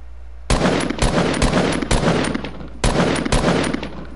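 Close, sharp gunshots in Fortnite crack out in quick repeated bursts, roughly eight shots over a few seconds with short gaps between them, and no talk over them.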